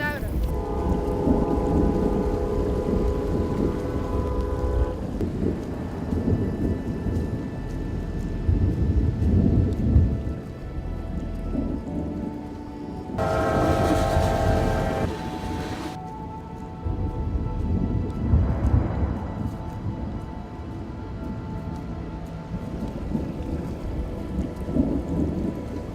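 Steady heavy rain pours down through a thunderstorm, with deep rolling thunder swelling and fading over it and a louder crash partway through, loud and close throughout, with faint voices.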